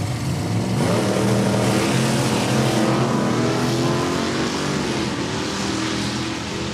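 Two drag racing cars, a 1962 Plymouth Fury and a 1987 Camaro, launch from the starting line at Saskatchewan International Raceway, loud roaring engines with layered revving tones that hold at full power throughout.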